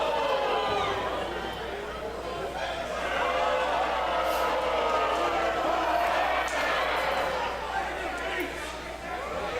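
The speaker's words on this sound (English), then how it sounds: "many people on hand in attendance, and they are nice, loud, and rowdy here tonight" A capacity crowd at a wrestling show roars loud and rowdy, a dense wall of cheering and chatter filling the whole stretch without letup.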